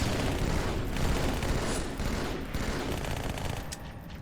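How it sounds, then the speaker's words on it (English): Gunfire and explosions from the Halo 2 video game, a dense loud roar of rapid shots and blasts running continuously across the clip, with no voices heard. "Grenade!"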